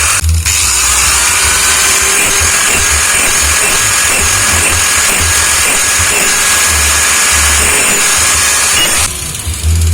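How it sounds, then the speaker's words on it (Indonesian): A grinder works on Bajaj Pulsar 180 clutch plates, producing a loud continuous high-pitched whine with gritty scraping that varies as the plate is moved back and forth, running nearly ten seconds before cutting off. "Dan untuk bagian platnya ini bisa digerinda bolak-balik nih."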